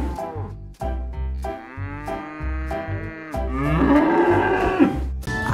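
A cow moos loudly several times in long drawn-out calls, with a steady thumping rhythm running underneath.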